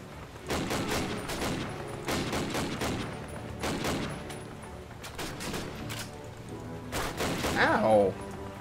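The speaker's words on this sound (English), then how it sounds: "I was shooting you. You're not supposed to shoot back." Bursts of rifle and machine-gun fire trade back and forth in the World War II shooter Call of Duty: United Offensive, in loud clusters over about eight seconds.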